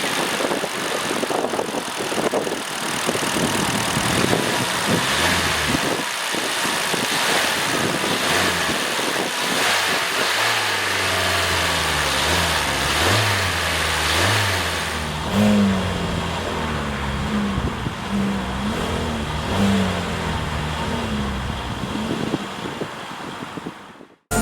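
A 2022 Hyundai Kona's 2.0-liter four-cylinder engine runs at idle, then revs up and down in repeated bursts, close and loud, with wind noise on the microphone.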